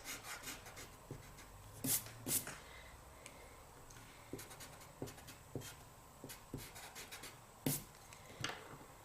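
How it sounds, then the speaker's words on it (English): An eraser rubs out pencil guidelines on a paper manga drawing of a boy's body, faint scratchy rubbing strokes in irregular short bursts with soft taps between them, close and quiet, no voices. "And now we can erase the guidelines."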